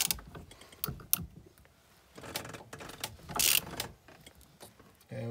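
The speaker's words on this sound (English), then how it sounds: "I'm going to get a wrench so we can hand torque it and know what we got." Metal clicks and clanks of a wrench hand-torquing a power steering part on a GM 4106 bus, a series of short irregular ratcheting and tool knocks at close range, fairly quiet with no talk.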